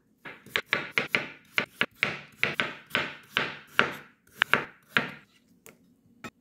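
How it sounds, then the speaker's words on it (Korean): A knife slices steadily through a cucumber on a cutting board on the diagonal into thin pieces, a quick run of crisp, close chops that slows near the end. "오이는 어슷어슷하게 썰어주는데요."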